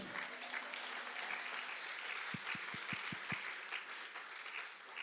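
A church congregation applauds during a Tagalog sermon, a sustained wash of clapping heard from within the hall, with a few distinct low claps near the middle.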